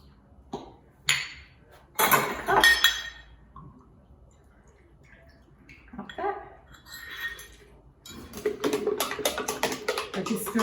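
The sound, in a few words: stirring balsamic vinegar dressing, utensil clinking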